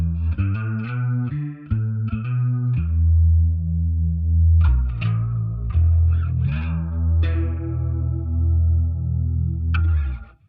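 Bass guitar through an Ampeg Liquifier chorus pedal, a run of plucked notes and then deep held notes with a fast, shimmering warble, loud and alone without talk.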